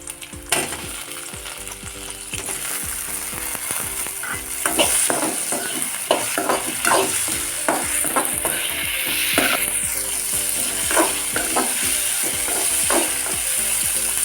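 Chopped tomatoes frying in a hot pan for palak paneer, sizzling steadily while a spoon stirs and scrapes them in repeated close, uneven strokes, with no talking.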